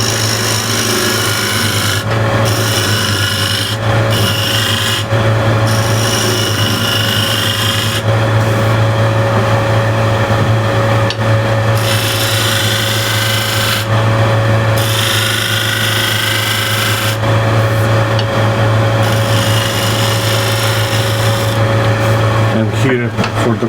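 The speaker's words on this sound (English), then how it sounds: "I can smooth that out with a shear scraper" A shear scraper smoothing the outside of a wooden bowl turning on a lathe: a steady, loud rasping scrape over a constant motor hum, with brief pauses and changes in pressure.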